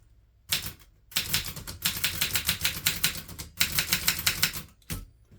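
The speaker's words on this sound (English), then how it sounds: "I'm typing a little slow because I don't know where all the keys are" A 1960s Groma Kolibri N manual typewriter types in fairly slow, uneven runs of crisp, loud mechanical key strikes, with brief pauses between bursts.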